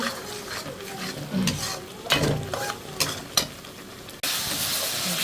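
Fish masala with turmeric, coriander powder and salt fries in oil while a spoon scrapes and stirs it, giving an uneven close sizzle with sharp stirring bursts and a sudden louder hiss near the end.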